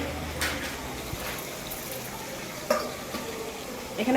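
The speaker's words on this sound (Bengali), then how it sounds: "আর ওইদিকে মা রান্না করছে। হ্যাঁ, মেটে চচ্চড়ি হচ্ছে।" Mete chachchari, a goat liver curry, cooks in a pan with a low, steady sizzle and occasional soft stirring scrapes, faint in a domestic kitchen with distant voices.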